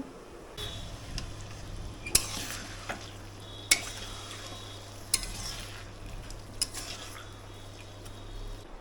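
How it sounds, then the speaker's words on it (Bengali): Meat is sautéed in oil in a pan and stirred, a continuous close frying hiss broken by several sharp metallic scrapes and clanks of a spoon against the pan, with a low hum underneath. "তো মোটামুটি মাংস কষানো হয়ে গেছে এখন আর একটু কষার পরে মানে তেল ছেড়ে দিয়েছে মাংস"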